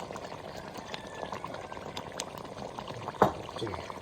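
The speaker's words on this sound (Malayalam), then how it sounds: "ഇനി കുറച്ച് പച്ച വെളിച്ചെണ്ണ ഒഴിച്ചു കൊടുക്കുകയാണ്" Raw coconut oil poured into a simmering fish head curry, a faint bubbling under quiet room sound with one short splashy pour near the end.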